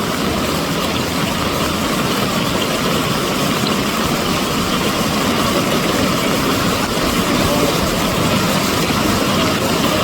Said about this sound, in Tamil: வாகனம் வந்து மெது மெதுவாக போய் கொண்டிருக்குது